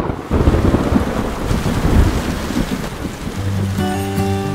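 A thunderstorm with heavy rain: loud, close, steady downpour with rumbling thunder, and a few tonal musical notes entering near the end.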